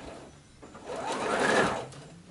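A sewing machine stitches slowly along a folded line on a quilted Christmas tree skirt, giving a short, steady whirring run that swells and fades, with no talk over it.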